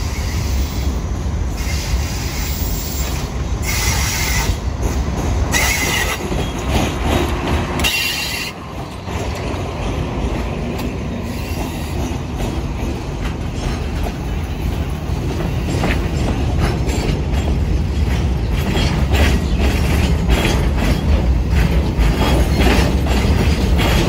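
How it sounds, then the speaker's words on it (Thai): SRT freight train 722 rolls into Surat Thani station on a curve south of the station, a loud continuous rumble of wagons with steady clattering wheels and mechanical noise throughout, no voices. "ตอนนี้ขบวนสินค้า722กำลังเข้าสถานีสุราษฎร์ธานีครับผม"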